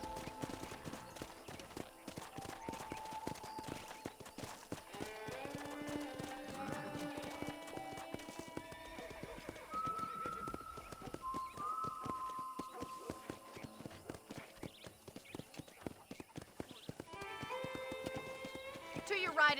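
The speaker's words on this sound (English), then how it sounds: "let's see if you can still ride a horse" Horse hooves clip-clop in an unbroken run of fast strikes while the rider travels to a ranch in Red Dead Redemption, mixed under game music, with voices talking over it.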